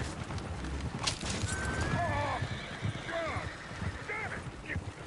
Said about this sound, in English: Oh, shit, the horses!